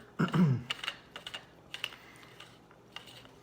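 A small plastic button clicks several times in quick, uneven taps, close and fairly quiet, following a soft thump at the start.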